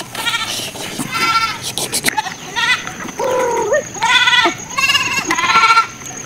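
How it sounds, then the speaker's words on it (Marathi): Several goats and small goat kids bleat one after another in quavering, nasal calls, close and loud, with brief pauses between the cries. "बारकी बारकी पिल्लं सगळी बकऱ्यांची होती"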